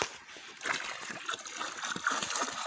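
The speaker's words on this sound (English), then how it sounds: "See, that's the fishes going in the water." Fish tipped from a bag into a pond, giving a continuous run of light splashing and trickling water close by, with soft sloshes over a faint background hum.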